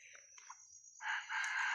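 A wild rooster crows nearby during a wild chicken hunt, with a short broken call followed by a longer, loud, drawn-out crow, alone with no talking.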